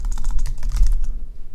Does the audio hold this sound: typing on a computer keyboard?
yes